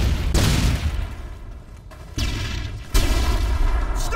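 Modern Warfare 3 on the Wii: a stun grenade blast followed by several sharp bursts of gunfire, loud and close, with abrupt booms separated by short quieter gaps.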